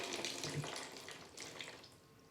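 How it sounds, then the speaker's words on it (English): Water is poured onto the cataphyll of a houseplant, a soft close splashing and trickling stream that runs continuously and quietly, with no talking. "Yeah, I'll pour water in the cataphyll here to like moisten this."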